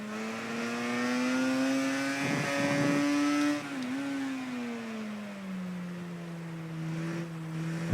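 A racing motorcycle engine in the video game Ride 3, set in an 80s championship, holds a steady whine that rises slightly, dips sharply as the bike brakes into a corner, then drones on at lower pitch.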